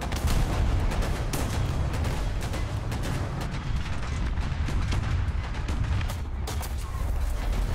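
Tank gunfire in War Thunder, from a T14 heavy tank battle, comes as repeated heavy booming shots and crackling impacts over a constant low engine rumble, with a voice talking at times.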